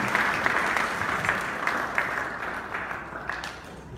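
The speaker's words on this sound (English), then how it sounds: "Hand claps, ladies and gentlemen, as we welcome the bride for her speech this evening" Wedding guests clap to welcome the bride for her speech at an evening reception, a full, steady round of applause from many hands that gradually softens toward the end.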